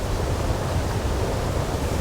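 Steady rain falling outdoors near a waterfall, a dense, even wash of broadband hiss that holds at a constant level throughout, with no voices.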